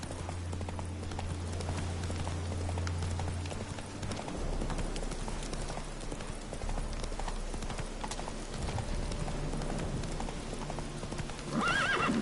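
Galloping hooves from Roach, a horse in The Witcher 3: Hearts of Stone, pound in a fast steady clip-clop with a neigh near the end, over a low background drone.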